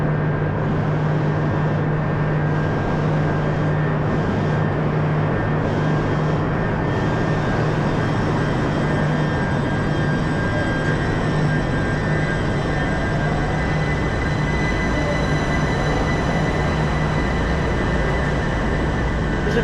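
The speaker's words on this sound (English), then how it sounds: "There's a train for Grace." A train at London Fenchurch Street station, terminus for c2c services to Southend and Shoeburyness, fills the platform with a steady, loud engine drone and rumble that holds through the whole stretch with a constant hum.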